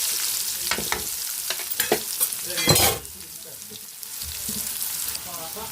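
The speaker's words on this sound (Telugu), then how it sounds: "పల్లీలు కూడా వేసేసుకొని మొత్తం బాగా ఫ్రై చేసేంత వరకు ఫ్రై చేసుకోండి" Dried red chillies, seeds and peanuts frying in oil in a pan alongside bitter gourd, a steady bright sizzle with scraping stirs and a louder spitting burst midway, close and continuous with no talking.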